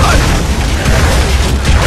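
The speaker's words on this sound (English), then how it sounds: "we're just gonna do what we did before and just lob a grenade at them" A grenade blast in Gears of War 3, a loud, sustained booming rumble that fills the whole stretch with heavy low-end roar and no clear gaps.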